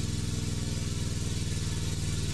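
A steam engine in the Steam Engine Simulator video game chugs with a fast, even mechanical pulse, steady and close throughout without talk.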